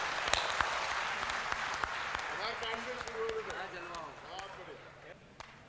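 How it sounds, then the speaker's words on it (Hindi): Applause for the Hindi comic poet Munna Battery at a hasya kavi sammelan, with broadband clapping, scattered sharp claps and a voice talking over it throughout. "भाई मुन्ना बैटरी के लिए जोरदार तालियों से स्वागत करें।"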